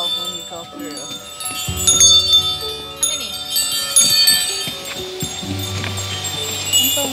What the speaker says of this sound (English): Ring the bell when you go through.